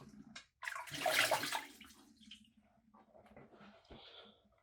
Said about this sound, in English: I'll go ahead and get a little splash of water